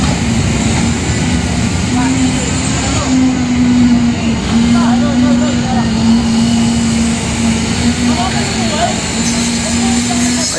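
Concrete vibrator running on a construction site along the Pasig River esplanade, a loud steady motor hum holding one droning pitch for the whole stretch amid site noise, with people speaking nearby.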